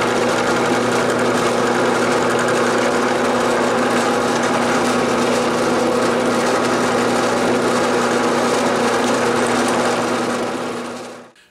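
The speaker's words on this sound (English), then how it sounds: "Set my plunge depth to a little bit more than halfway through the material here." A plunge router cuts into wood for a round cribbage board, a loud steady motor whine with a constant hum that runs nearly eleven seconds before spinning down at the end, with no talking.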